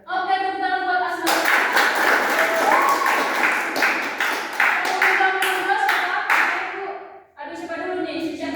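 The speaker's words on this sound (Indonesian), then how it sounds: "tepuk tangan buat Asna" A classroom of students claps together for a classmate in a teacher-training lesson, a dense steady patter of hand claps running loud for several seconds between stretches of talk at the start and end.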